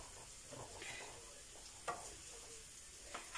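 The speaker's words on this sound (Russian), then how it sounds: "Поставила морковку обжаривать." Carrots frying in a pan on a stove while soup cooks, giving a soft, steady sizzle with a few brief clinks and stirring scrapes, fairly quiet and heard alone.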